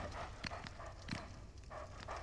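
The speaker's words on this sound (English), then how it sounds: "There is one more dog, unfortunately." Barking and snarling from a dog enemy in Dark Souls 2, several short bursts spread across a noisy game soundscape.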